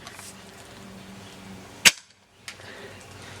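A professional Nerf bolt action rifle fired downrange outdoors, a single sharp, loud pop followed by a brief hush and a faint distant thud of the dart landing.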